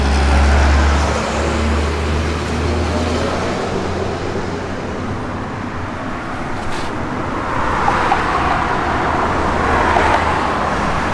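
A 1968 Plymouth Road Runner with a 383 engine and Pypes X-pipe dual exhaust idles with a loud, deep, steady rumble, swelling slightly in the last few seconds.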